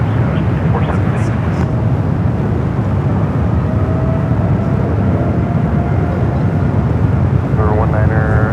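An airliner takes off at San Francisco airport. Its engines roar in a broad, steady rush that dominates throughout, with a faint tonal whine drifting across the middle. Short bursts of radio chatter come at the start and near the end.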